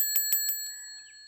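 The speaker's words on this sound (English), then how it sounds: "Yeah, that's totally the original bell ring." A cartoon bicycle-style bell rings three bright, quick dings followed by a softer fourth, then a lingering metallic ring that fades out, crisp and close with nothing else heard.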